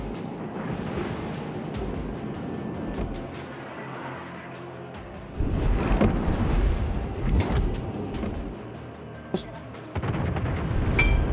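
Heavy naval guns fire from destroyers, Harugumo and Halland, in a naval battle video game: deep booming blasts with a rumbling low end and a sharp crack near the end, over steady engine and sea noise.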